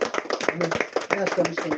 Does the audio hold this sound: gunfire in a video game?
no